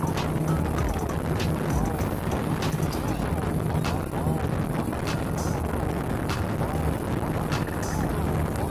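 The Raja Wali Express passenger speedboat runs fast toward Pontianak, its roaring engine and hull slapping the waves in a dense continuous rush, heavy wind buffeting the microphone throughout.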